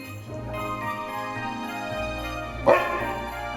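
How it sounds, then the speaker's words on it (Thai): A short-haired dog gives a single sharp bark partway through, nearby, over a steady low indoor hum. "เห่าอะไร"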